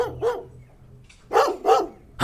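A dog barks agitatedly in an audio story, three loud close barks in two bursts separated by a short quiet gap.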